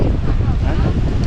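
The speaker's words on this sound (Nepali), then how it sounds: "हैन धेरै हावा आयो" Strong wind roars and buffets close to the microphone in a short, loud, continuous burst.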